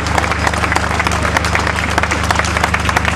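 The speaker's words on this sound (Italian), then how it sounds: "un applauso anche all'associazione giuristi democratici che ha aderito" A crowd at a Rome rally for the Constitution bursts into loud, dense applause, continuous clapping over a low steady hum from the venue's sound system.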